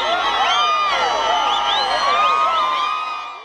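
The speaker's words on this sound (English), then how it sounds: "the crowd went into a frenzy after the proceedings as they began celebrating their" A crowd celebrates at a University of Zimbabwe graduation ceremony. Many voices whoop, shout and ululate together in a loud, sustained, dense roar that fades out at the end.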